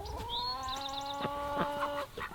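Chickens in a garden cluck and call in a quick run of short, bright notes, close by and fairly loud, with soft rustling and knocks underneath.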